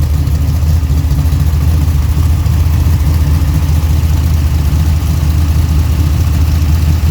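A car engine fitted with hydraulic roller lifters and a 9.25:1 compression ratio idles steadily, a smooth, even low rumble that stays constant and fairly quiet throughout, with no talking.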